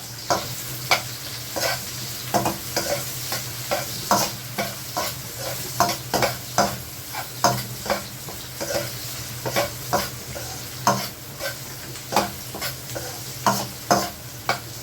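Onion fries in oil for Ilocano pinakbet while a utensil stirs it, giving a bed of sizzling with sharp scraping strokes that come about once a second in a steady, close rhythm.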